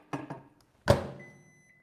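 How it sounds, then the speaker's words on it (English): A microwave oven set to high gives two short clicks, then a louder thunk as it starts, followed by a faint steady tone as it begins running. "I'm going to microwave it on high for 10 minutes"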